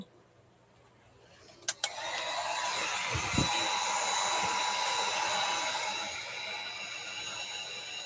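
A hair dryer drying texture paste on a craft project starts with a couple of clicks, then blows as a steady, fairly loud broadband whoosh that holds for the rest of the stretch.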